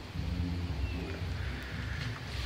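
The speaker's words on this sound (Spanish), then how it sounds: "viendo cómo llueve, porque está lloviendo un poquito" Light rain falling outdoors, heard as a soft continuous hiss with a low rumbling wash of wind or distant traffic beneath it, steady and fairly quiet with no voices.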